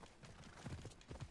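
Horse hooves running in the video game Assassin's Creed Odyssey, a quick series of low thudding clip-clop beats that grow louder toward the end, heard alone.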